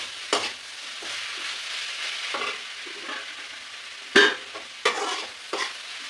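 Chicken pieces are stirred in a pan over heat, with a soft continuous sizzle broken by a few scraping strokes of the spoon against the pan, close and moderately quiet.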